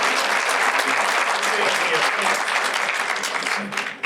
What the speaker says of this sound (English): how about a round of applause for Seth Moulton and Margaret Hand being here